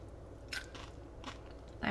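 A few crisp bites into crunchy puff pastry, close up and fairly quiet, each a short crackling crunch spaced apart over a low background hum.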